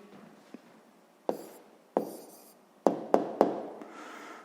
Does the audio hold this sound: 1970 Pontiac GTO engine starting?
no